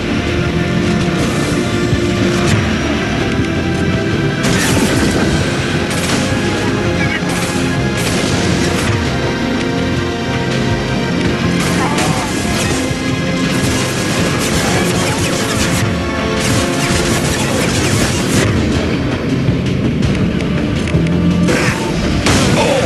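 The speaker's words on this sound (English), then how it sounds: "Firing a high-impact shot!" A high-impact shot fired in the Mass Effect 2 video game bursts out as a heavy boom amid dense, continuous game combat noise, with repeated crashes and impacts throughout.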